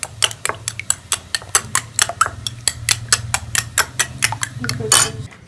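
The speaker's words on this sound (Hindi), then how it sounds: "अंडों को फेंट लेंगे।" Three eggs whisked in a bowl for an omelette in capsicum: a steady, fast run of close metallic clinks and taps against the bowl, evenly spaced and continuing throughout, with no talking.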